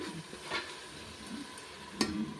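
Ginger paste with salt sizzles and sautés in a pan, a steady close frying hiss broken by a few scraping stirs of a spoon, with no talking.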